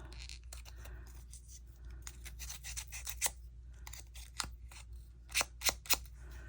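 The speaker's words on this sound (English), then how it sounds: "We want to sand it." Stamped paper craft elements being hand-sanded along their edges, a close series of rasping scratches and rubs in irregular strokes, with a few sharper scrapes near the end.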